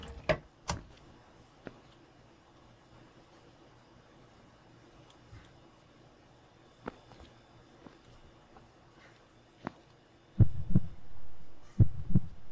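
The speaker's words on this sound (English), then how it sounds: "Why is my heart beating? It's getting louder." A heartbeat in a video game set aboard an airplane, with soft isolated thumps spread over a low hum that turn into louder, heavier beats near the end.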